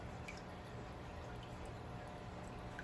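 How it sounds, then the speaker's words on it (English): Water trickles and drips steadily from a tilted homemade paper mould holding cornflower petal pulp, with soft irregular splashes over a continuous low watery patter. "Tilt it to the side so it can start dripping out the one side."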